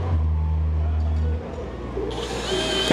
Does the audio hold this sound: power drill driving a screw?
yes